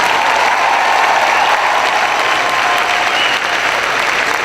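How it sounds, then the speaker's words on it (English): Sustained, loud applause from a large audience honoring award winners at a general session, a dense steady wash of clapping with no voices on top. "Let's give them all another huge round of applause."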